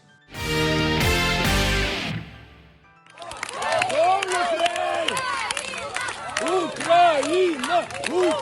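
A stadium crowd chants "Ukraine" in rhythmic, repeated waves as the Ukrainian men's rugby sevens team takes the field at a European Championship match in Croatia. A short sustained tonal burst comes first, then the loud chanting follows.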